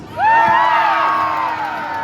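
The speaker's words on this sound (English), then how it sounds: "Alan, did you like that applause?" An outdoor beach show crowd breaks into a sudden burst of cheering and high whoops, loud and close, easing off slightly over two seconds, as a high diver prepares to climb an 80-foot ladder.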